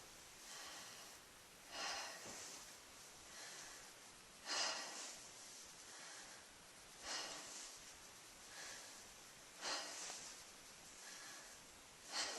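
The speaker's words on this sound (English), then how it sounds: "So I'm going to have you take a couple deep breaths." A patient takes deep breaths during a lung exam, heard close and faint through the quiet room as five evenly spaced airy inhalations, each a soft rushing swell.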